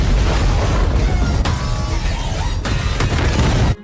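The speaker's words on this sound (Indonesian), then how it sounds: "SSP Angad lalu menembak drone-nya dan langsung terjadi ledakan." Loud, sustained explosion from a drone shot down in an Indian action film, a dense rumbling blast with sharp crashing bursts layered through it, cutting off abruptly at the end.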